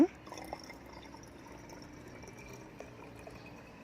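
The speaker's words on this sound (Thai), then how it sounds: "น้ำเปล่าแก้วที่ 1 ลงไป น้ำเปล่าแก้วที่สอง" Plain water poured from a glass into a small plastic bottle, a soft, faint trickle and gurgle, with a few drips, running steadily for several seconds after a brief knock at the start.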